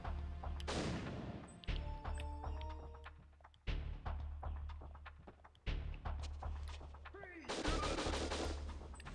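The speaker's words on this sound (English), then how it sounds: "Shouldn't be using my machine gun here." Machine gun fire in the video game Operation WinBack, loud repeated bursts of rapid shots separated by short pauses, with echoing impacts and a speaking voice between bursts.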